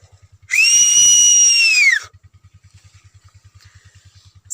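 A loud, sustained whistle blown beside a corn field in a village to keep people away, one long steady blast of about a second and a half over a faint rhythmic engine-like thumping that continues alone afterward.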